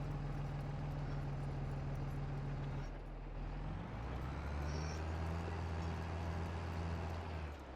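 A tractor engine idles in Farming Simulator 22, a steady low rumbling drone that shifts pitch partway through, moderately loud with no talk over it.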